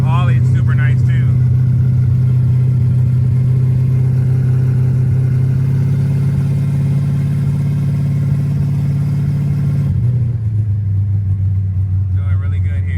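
A 1000 hp 427 cubic inch C5Z Corvette engine drones loud and steady from inside the car while driving, the pitch holding then dropping as it eases off; no talk is heard.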